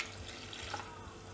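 Water pours into a pot of basmati rice and mint for pulao, a steady running splash close by and moderately quiet, with no talk over it.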